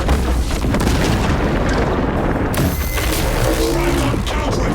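Melta bomb detonation in Warhammer 40k: Space Marine 2, a loud, sustained booming roar filling the whole stretch with a sharp shift partway through, dense battle noise throughout.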